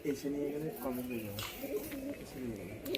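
Pigeons, a pair of Kalsira fancy pigeons, coo in low, rolling, throaty calls, close by, with faint chirps and background murmur.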